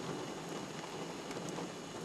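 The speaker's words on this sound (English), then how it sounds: "It's raining, in case you haven't noticed." Dense, steady rainfall with a constant wash of patter and scattered droplet ticks, close by and uninterrupted.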